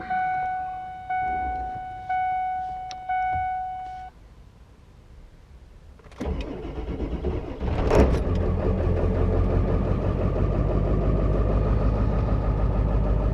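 Repeated dashboard warning beeps as glow plugs heat, then a Ford Power Stroke diesel truck engine cranks and catches, settling into a loud, steady rumbling idle.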